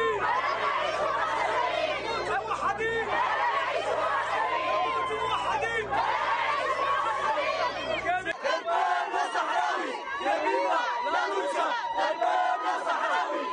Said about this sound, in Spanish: la población vitoreó a los foráneos durante su recorrido por los